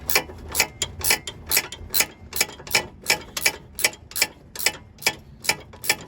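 A wrench ratchets steadily on a sway bar end link nut on a 7th or 8th generation Honda Civic, producing a close, crisp series of evenly spaced clicks about every half second.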